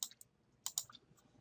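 A few sharp, faint computer mouse clicks in quick succession, isolated against near silence.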